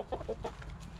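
Hens in a henhouse cluck in a few quick, close bursts while being fed mealworms.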